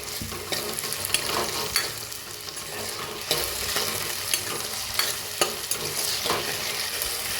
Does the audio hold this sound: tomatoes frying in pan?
yes